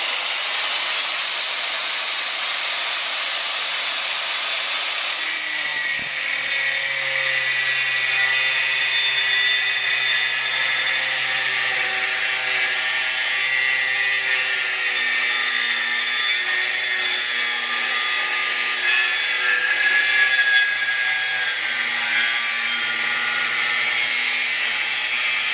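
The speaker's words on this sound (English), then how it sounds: "as Kevin has a cutting disc in the grinder, Kevin can proceed with the job in hand." A 4.5-inch angle grinder fitted with a cutting disc cuts through metal in one loud, continuous high-pitched whine, with the tone dipping and shifting as the disc bites, lasting the whole stretch with no talking.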